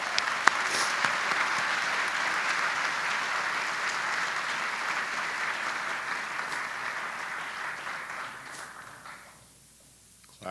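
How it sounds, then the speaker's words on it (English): Sustained applause from a ceremony audience honoring alumni service award winners, steady and full for about nine seconds before fading out quickly near the end. "Let's give them one more round of applause."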